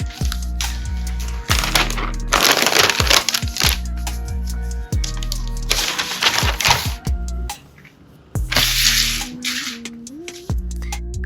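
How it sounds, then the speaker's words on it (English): MacBook Air M4 being unwrapped from its plastic wrap, with repeated loud crinkling and crackling bursts separated by quieter handling noises and clicks, all close up. "now let's unwrap the MacBook"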